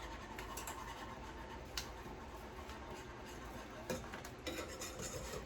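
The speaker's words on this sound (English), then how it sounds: "now we're just gonna be adding this gelatin in this boiling water to dissolve it" Soft scraping and stirring as gelatin dissolves in boiling water in a pot, with a few light clinks of a utensil against the side, steady and close.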